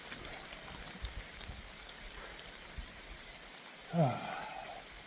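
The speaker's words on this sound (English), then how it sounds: "It's never going to stop raining, ever." Steady rain falling outdoors on a hillside of the Appalachian Trail in North Carolina, a soft constant hiss of drops, with a brief louder rustle or movement near the end.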